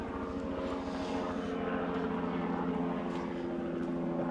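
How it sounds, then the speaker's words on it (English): A helicopter flying over a village holds a steady, throbbing drone with a rapid rotor pulse, loud and constant for the whole stretch. "Oh, there's an aeroplane interfering now. It's a helicopter."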